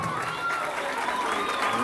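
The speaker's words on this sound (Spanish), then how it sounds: "Recibimos con un fuerte aplauso." An audience at a school ceremony in Cajamarca, Peru breaks into steady applause with scattered cheers, a dense clapping wash that lasts about two seconds.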